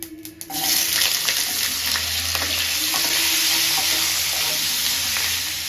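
Potatoes frying in a pan with a cumin tempering, a loud, dense, continuous sizzle that rises after a brief quieter opening and holds steady to the end.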